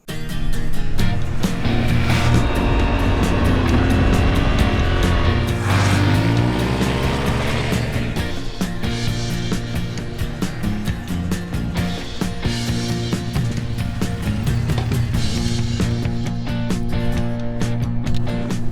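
A Yamaha Ténéré 700 adventure motorcycle ridden on a gravel section gives a loud, continuous engine drone with wind rush, its revs rising and falling throughout.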